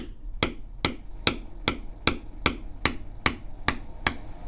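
A bevel tool struck on leather with a mallet while tooling a long line, giving a steady series of eleven crisp, evenly spaced taps close up, without talk.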